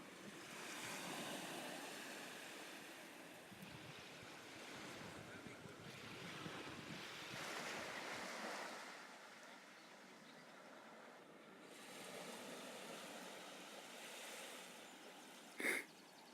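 Surf washing onto a deserted cove beach at Carne, Cornwall, a soft, steady hiss of breaking waves with gentle swells and some wind rumble on the microphone, fairly faint and distant, with a brief sharp knock near the end.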